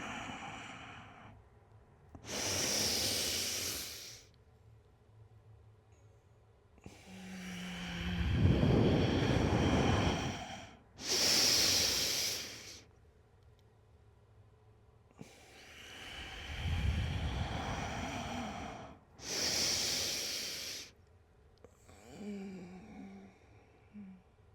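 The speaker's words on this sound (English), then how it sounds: "we're going to inhale on the spine extension, and then we're going to exhale" Slow, deep yoga breaths during spinal flexion and extension exercises, with long airy inhales and exhales alternating in a steady rhythm, close and fairly loud, with no talking.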